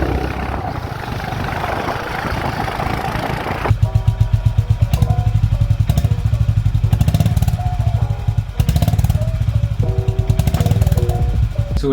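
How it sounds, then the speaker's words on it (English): Honda H'ness CB350 motorcycle engine revving after a gear shift, a loud close thumping exhaust with a steady rhythmic pulse that rises and falls with the throttle, preceded by a few seconds of road and wind noise. "if you shift the gear for third to fourth or something, and if you just give the throttle, you can feel that good kind of sound"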